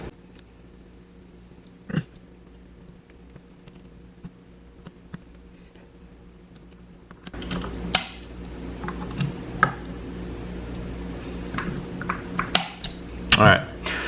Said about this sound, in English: It's a torque wrench, and I have it set to 15 inch-pounds. So I just tighten it down.